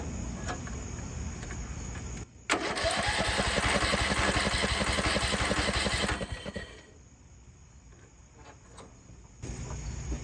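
An old, beat-up tractor engine cranks loudly for several seconds, churning in a rapid rhythmic chug without catching. It then drops to a quieter idle-like murmur before cranking starts again near the end.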